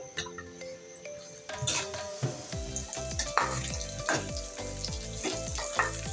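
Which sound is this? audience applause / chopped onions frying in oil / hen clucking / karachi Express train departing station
chopped onions frying in oil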